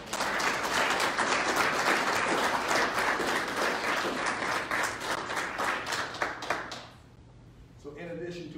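Sustained applause from an audience at a school Army JROTC military awards ceremony, dense steady clapping that fills most of the clip before fading out, with a voice starting to speak near the end.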